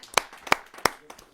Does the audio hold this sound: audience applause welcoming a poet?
yes